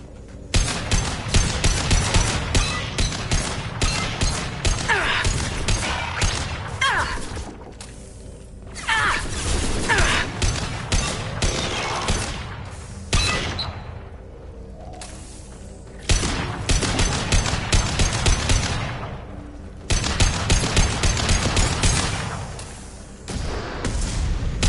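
An overridden turret in Mass Effect 2 fires in long rapid bursts of loud mechanical gunfire. Sharp clattering impacts run through each volley, and short lulls separate the volleys over about twenty-five seconds.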